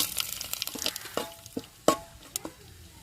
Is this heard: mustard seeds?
yes